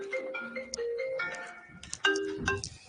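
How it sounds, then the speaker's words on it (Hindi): A phone ringtone plays a short electronic melody of bright, stepping tones, fairly close and clear, with no talk over it. "फोन आ रहा बढ़िया वाला।"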